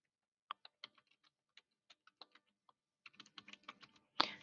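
Fingers tap a computer keyboard in quiet, irregular clicks, sparse at first and then quicker and denser, ending with a louder clack of a key being struck hard.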